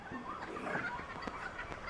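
An Australian king parrot gives a few faint, honking calls close by against a soft, steady background, with no voices.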